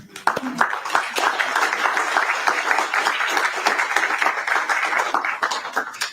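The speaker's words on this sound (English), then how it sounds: "So I give you a round of applause today" An audience at a college event with an FAA-certified pilot school claps in a round of applause, a dense, steady burst of many hands that starts sharply and holds at a fairly loud level.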